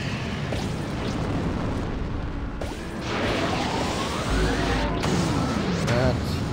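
Racing game Beach Buggy Racing 2 with a big bang power-up going off: a loud, sustained explosive rumble and crash over continuous engine and game noise, building in the second half.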